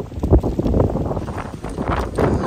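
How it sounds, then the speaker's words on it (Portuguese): Strong gusty wind before rain buffets the microphone outdoors, a loud continuous roar with rumbling surges throughout. "Nossa senhora, olha o vento"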